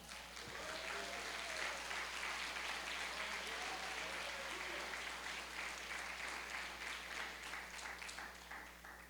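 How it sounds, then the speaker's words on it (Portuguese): Church congregation applauding steadily throughout, a dense sustained wash of clapping with faint voices and cheers mixed in, fairly distant, under a low constant hum. "Você pode aplaudir o Senhor?"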